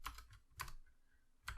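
Keys clatter on a computer keyboard as code is typed in Unity, three quiet, close bursts of clicks with gaps between them and no talking.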